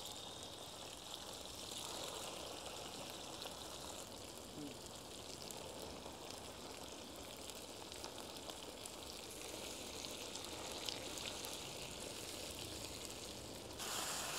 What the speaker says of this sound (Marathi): चटणीला आपण चांगलं परतून घेऊ तेलामध्ये व्यवस्थित।